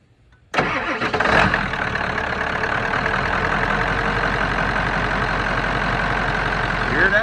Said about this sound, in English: Hear that Powerstroke.